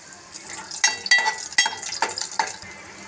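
Whole spices crackle in hot oil for a Marathi-style phodni tempering for mixed-vegetable dal, with stirring and a few sharp clinks of a spoon against the pan over a light, steady sizzle.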